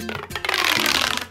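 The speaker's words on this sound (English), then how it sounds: "when you expand this tube, it makes some fun sounds like this" A corrugated plastic toy tube is stretched out, giving a loud, noisy whooshing whistle with clanking, ratchet-like ridges that rises and holds for about a second before stopping.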